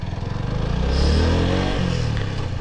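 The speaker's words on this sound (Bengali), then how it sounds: "দাঁড়াও আমি সাইডে লাগাই বাইকটাকে" Motorcycle engine idling and slowing as the bike pulls over beside the Ganges, a close, loud low-pitched rumble with a brief swell and falling pitch, no voices.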